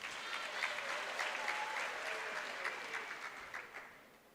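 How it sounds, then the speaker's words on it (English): A graduation ceremony crowd claps for an honoree, quiet and somewhat distant, the applause holding for a few seconds before tapering off. "Can we also give him a big round of applause?"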